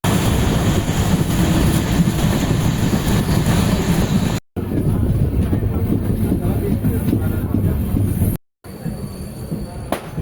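Karaikudi–Tiruvarur train passing in the opposite direction on the line near Tiruvarur, a steady loud rumble of rolling wagons and wheels close by, broken by two brief dropouts.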